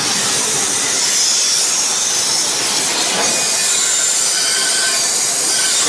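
A high pressure car washer sprays water in a steady, loud, broadband hiss that runs unbroken from start to finish, with no voices.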